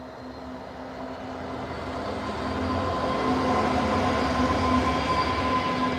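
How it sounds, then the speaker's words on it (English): Train on a working railway line near the old Birtley munitions factory, a steady rumbling roll with a faint tonal whine that grows gradually louder over several seconds as it approaches, with no voices. "It's a working railway line."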